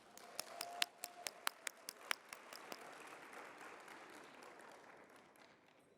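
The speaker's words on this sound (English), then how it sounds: "Let's give them a round of applause." Applause for outgoing board members at a conference farewell reception, starting as a few sharp, separate claps up close and then spreading into soft, steady clapping from a small, quiet crowd.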